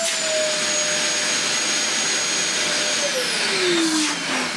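A Dyson DC11 vacuum cleaner runs with its hose removed and no filters fitted, giving a loud, steady, high-pitched suction roar. The whine slides downward partway through.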